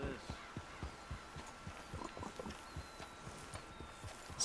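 Horse hooves clip-clopping at a walk in a video game, an even, steady rhythm of soft thuds running throughout at moderate loudness, with faint background tones.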